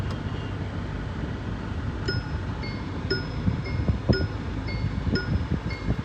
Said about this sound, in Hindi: ये जो सीट बेल्ट की आवाज़ है इसको इग्नोर करें।